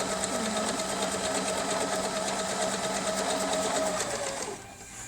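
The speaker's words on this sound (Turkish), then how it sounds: "Kademe pedalda istediğiniz hızda güzelce kumaşımızın kenarına sürtülemizi yapabiliyoruz." A Pfaff 1132 sewing machine overcasts a fabric edge with a fast, steady mechanical whirr and rapid stitching chatter, close and loud, then slows and stops near the end.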